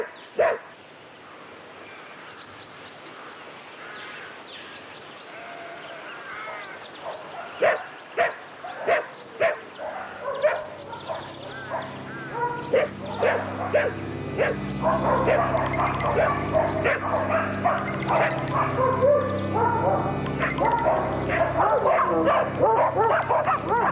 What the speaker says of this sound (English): Pack of dogs at map reference